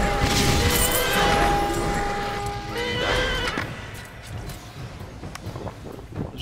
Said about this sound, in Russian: Наши лошадки.